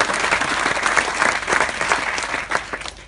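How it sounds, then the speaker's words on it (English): Applause at a corporate kickoff event, a close, full burst of many hands clapping that holds steady before tapering off at the end. "Round of applause."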